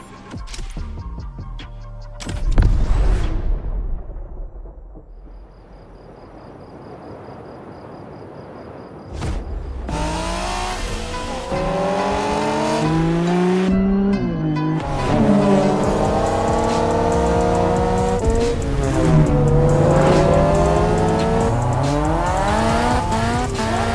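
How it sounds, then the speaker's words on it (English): Cars race in a tightly bunched pack in The Crew Motorfest, opening with tire squeals and a quieter lull before engines rev hard and loud, overlapping engine notes climbing and shifting continuously as the cars press close together. "You'll be racing amongst the whole pack this time."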